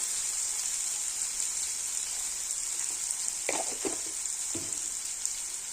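Ground spices with chili powder fry in a pan for a potato and soybean curry, a faint steady sizzle with a few short scraping stirs near the end.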